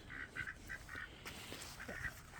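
A khaki Campbell duck quacks nearby in an icy pen, giving a quick series of short, nasal quacks, some close together and some spaced out.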